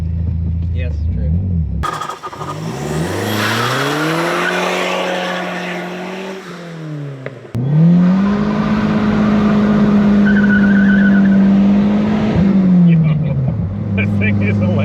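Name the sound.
SRT4 turbo minivan tires spinning, blow-off valve, wastegate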